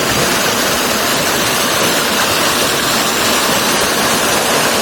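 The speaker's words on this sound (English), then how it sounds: "These little upper falls." A steady, loud rush of small upper falls near Davidson's Linn in Northumberland, broad and unbroken throughout, with no other sounds.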